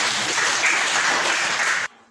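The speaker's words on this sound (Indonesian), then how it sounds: "semuanya kita beri penghargaan kepada mereka dengan tepuk tangan untuk kalian" Short burst of steady applause from students in a classroom lesson, continuous clapping that cuts off abruptly.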